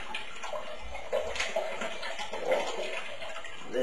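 Homemade whisky is poured through a filter in a bathroom, giving a soft, steady trickle and splash that runs continuously at a low level with no talking.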